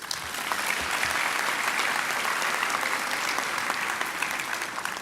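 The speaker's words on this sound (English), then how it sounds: "one more round of applause" A large audience at a university graduation ceremony gives a sustained round of applause, dense and steady clapping from a big crowd that holds for several seconds at even volume.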